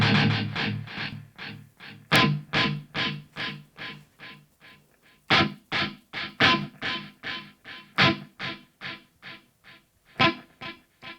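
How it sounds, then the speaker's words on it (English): An electric guitar played through BIAS FX on an iPad Pro with a heavy reverb and no delay, struck in a steady run of punchy, distorted chords that ring briefly between strikes, with no one talking. "Quite an intense reverb, no delay even"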